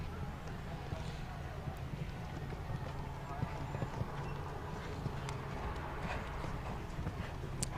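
A horse gallops around a show jumping ring during a 1.45m CSI 2* speed class, with rapid hoof beats thudding on the footing at moderate distance over wind noise and a commentator's voice.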